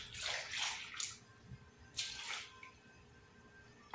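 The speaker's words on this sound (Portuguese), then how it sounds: "Vou colocar mais água, um pouquinho mais de água" Water is poured over cut green papaya in a pot while making papaya candy, with two soft splashing pours separated by a quiet pause and light drips.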